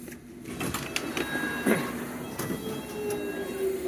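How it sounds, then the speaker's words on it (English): A London Underground Metropolitan line train running between stations on the route from Amersham to Aldgate, a steady rumble of wheels and motors with occasional clanks and a rising squeal, heard from inside the carriage. "This is a Metropolitan line train to Aldgate."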